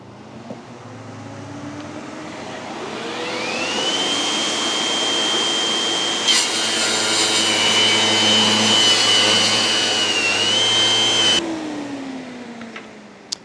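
A Festool CSC 50 saw with a dust extractor and SYS-AIR filter runs, a whine spinning up over a steady extractor roar, cutting with a strained rising tone midway, then winding down as the roar fades.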